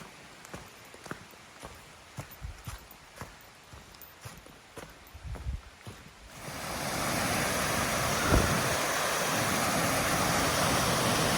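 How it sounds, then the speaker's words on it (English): Flowing stream water on a hiking trail along the Appalachian Trail, a steady broadband rush that swells up and fills the second half, preceded by scattered footsteps and light rustling. "Been hearing this water for a while."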